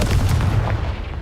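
Confringo fire spell blast from the Hogwarts Legacy video game, a dense booming roar that stays loud and continuous through the whole moment, with no voices over it.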